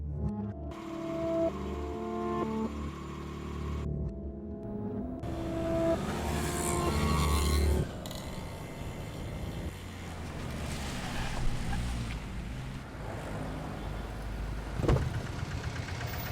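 A car driving in a Hindi action film scene: a steady vehicle rumble runs under a loud dramatic music score, with bursts of effects partway through.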